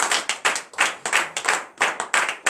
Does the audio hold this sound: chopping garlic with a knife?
no